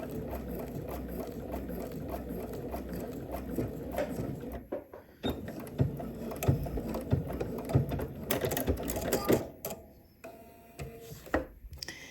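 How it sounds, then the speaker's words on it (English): A sewing machine sews a straight stitch through stretchy swimsuit fabric, its quiet mechanical whir running in bursts with short stops and faint clicks of the mechanism. "we are going to sew this in place, straight stitch"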